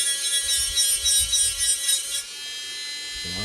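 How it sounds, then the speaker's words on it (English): Wood sanded by hand with sandpaper, a close, steady rhythmic rubbing in repeated strokes that stops partway through, leaving a quiet tonal hum. "So I'll just sand it a little bit here."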